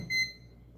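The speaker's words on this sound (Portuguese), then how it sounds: "Bom, deu 2 bip, é sinal que a fonte está ok." A single short high-pitched electronic beep from a digital power supply tester checking an Aerocool VX-350 350W ATX power supply sounds briefly over a low hum, then fades into quiet background noise.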